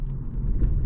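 A car is driven through quiet night streets, and a low steady road rumble and engine drone fill a brief stretch with no voices.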